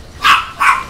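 A dog named Loki gives two quick, loud barks in close succession, near and alone.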